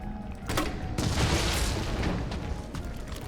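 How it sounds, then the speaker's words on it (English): A grenade launcher fires and detonates against zombies in a video game, heavy booming bursts that roll and sustain for several seconds, loud and close with no talk. "Let's just shoot them with a grenade."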